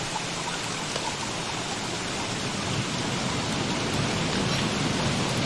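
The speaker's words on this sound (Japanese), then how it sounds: "ああ、雨降ってきた。" Steady rain begins falling in the survival video game Don't Starve: Shipwrecked, a continuous broadband hiss of pattering drops that holds evenly throughout, with no voices over it.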